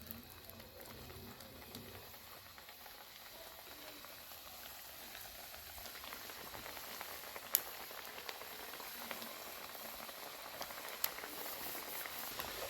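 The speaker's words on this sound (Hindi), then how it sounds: "मैं इसे जल्दी जल्दी से कुकिंग ऑयल से निकाल लेता हूँ और समोसे इसमें डाल लेता हूँ" Potato samosas frying in hot cooking oil, a steady soft bubbling sizzle with occasional sharp pops, fairly quiet and continuous.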